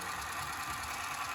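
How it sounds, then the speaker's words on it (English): Engines on a 2008 Schuco 5600 Elektro Radiant reproduction toy plane idle with a steady, even whirring hum, close and fairly quiet, with no talking. "Now it's idling and it's going to start up all over again."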